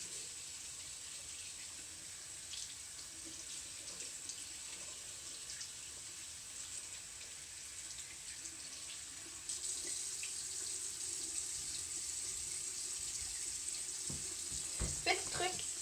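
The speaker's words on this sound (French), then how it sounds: "on s'assure de bien rincer le savon" Makeup brushes rinsed of soap under a running tap, a steady close hiss of flowing water that grows louder partway through, with a few clatters near the end and someone talking quietly over it.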